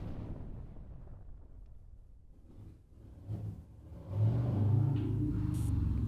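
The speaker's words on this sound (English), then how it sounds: "That is a loud car." A loud car rumbles outside, its deep engine roar swelling suddenly after a quiet stretch and then holding steady and heavy to the end.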